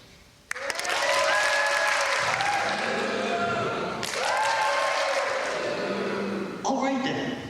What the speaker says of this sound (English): when I raise my hand like this, you applaud.